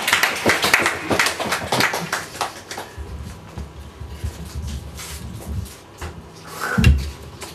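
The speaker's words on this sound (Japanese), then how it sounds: "大きな拍手をお迎えください" Clapping from an audience at a live spoken-word poetry open-mic show, starting dense and loud then thinning out over several seconds, with a later burst of noise near the end.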